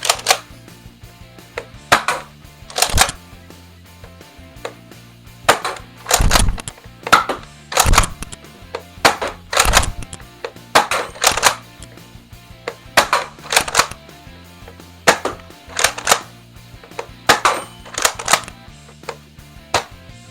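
Repeated sharp snaps of an X-Shot Lock toy dart blaster firing its included darts, about twenty close, loud shots in irregular bursts over twenty seconds, with mechanical clicks between them and no talking.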